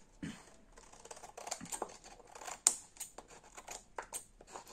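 Close scissor snips cut through material in an irregular series of short crisp clicks and scrapes.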